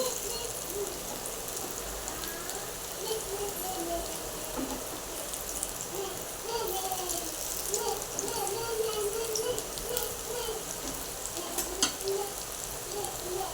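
Alu vadi, colocasia leaf rolls, shallow-fry in oil with a continuous soft sizzle and scattered crackles that hold steady at moderate distance throughout, with no talking.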